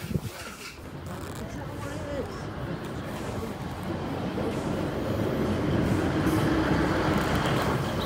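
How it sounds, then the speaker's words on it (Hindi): Train pulling into a railway platform in Norway, a steady rising rumble of wheels and carriage noise that grows louder as it arrives, with people talking faintly in the background. "तो गाइस ट्रेन जो है वो आ चुकी है"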